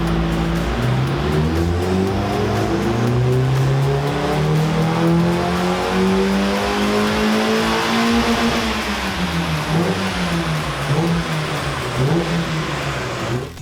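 A 1.8-litre Mazda MX-5 engine with a skimmed head and decat, race-prepped, revs hard and steadily on a dyno, pitch climbing over several seconds and then dropping back, loud and close with no voices.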